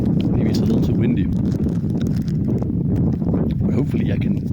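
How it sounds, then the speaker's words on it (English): Strong wind buffets the microphone outdoors, producing a constant loud rumbling roar with gusty fluctuations throughout. "maybe it's a little too windy"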